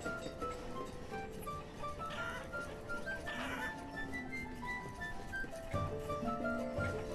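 Farm animals, chickens among them, cluck and call in the colony-building game Banished, quiet and scattered over a busy ambient game soundscape.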